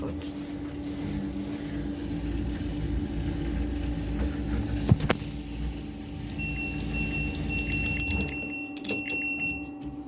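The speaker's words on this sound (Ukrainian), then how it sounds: "Проміжний віджим. Давайте подивимося, скільки там обертів." An LG F2V5GG9T washer-dryer on an intermediate spin cycle of about 500 rpm, a steady motor hum and drum rumble with a brief knock midway, then a high whine as the spin changes near the end.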